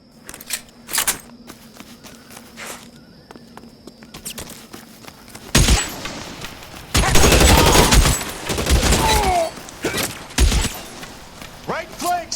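Gunfire erupts in L.A. Noire, with scattered shots early giving way to a sustained, loud volley of repeated bursts in the second half, mixed with shouted commands and game effects.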